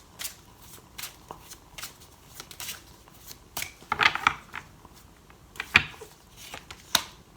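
Urban Tarot cards are shuffled up close in a series of crisp riffles and flicks, irregular bursts separated by short pauses, with no talk over them.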